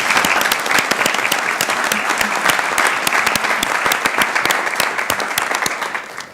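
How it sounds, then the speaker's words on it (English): Vigorous audience applause at a city council meeting, crisp individual claps packed into a loud continuous crowd ovation lasting over six seconds, with a few sharp close hand claps standing out. "Let's give them another round of applause, folks"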